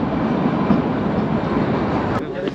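The Kalka–Shimla narrow-gauge toy train running through hill country: a steady dense rumble and rattle of wheels and carriages, close and continuous, with faint voices mixed into the din.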